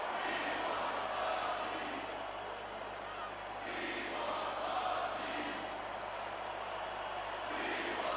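A video game arena crowd in Smackdown vs Raw 2006 cheers as a steady, dense roar that swells and dips slightly throughout, with a low hum beneath it.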